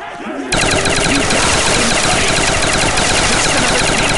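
A weapon firing in Black Ops Custom Zombies: a loud, continuous automatic burst that starts abruptly after a brief quiet moment and hammers on steadily without pause.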